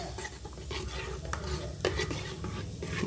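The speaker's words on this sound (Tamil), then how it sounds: "இதை சேர்த்து இப்போ மிக்ஸ் பண்ணிக்கலாம்" A spoon stirs milk into vermicelli and sago payasam in a metal pot, giving soft scraping and clinking strokes at a steady, close rhythm with no talk.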